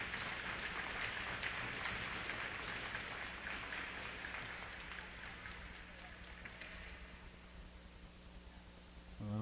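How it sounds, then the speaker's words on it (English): Spectators at a youth under-12 ice hockey game applaud an injured player rising from the ice, a broad clapping wash in an echoing rink that slowly fades over several seconds, with a commentator's voice over it. "Nice round of applause."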